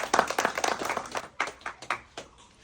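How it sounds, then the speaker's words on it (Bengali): Scattered audience clapping for a woman contestant who drops coloured balls while holding a spoon in her mouth, uneven bursts of claps that swell and fade over a few seconds. "ওনার জন্য জুড়ে একটা করতালি চাই।"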